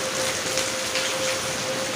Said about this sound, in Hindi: जैसा कि आप लोग देख रहे हैं कि बरसात हो रही है